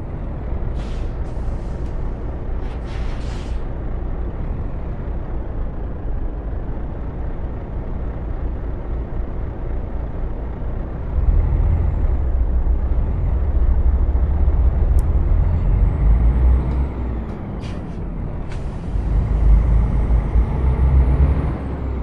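A heavy truck engine drones loud and steady in Euro Truck Simulator 2, deepening and swelling midway, with short sharp hisses of air brakes cutting in near the start and again toward the end.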